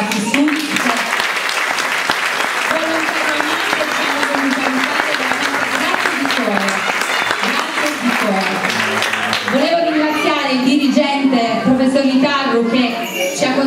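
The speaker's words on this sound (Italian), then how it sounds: "Vorrei iniziare con un grande applauso ringraziandoli i ragazzi del coro Battistù." Audience applause for a school choir after a recital, continuous clapping throughout while a voice talks over it, with the talking growing more prominent toward the end.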